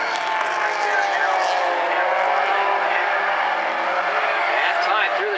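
Bumblebees race cars at South Sound Speedway snarl through the chicane in a steady, dense engine roar that holds loud and constant throughout, with a commentator talking over it.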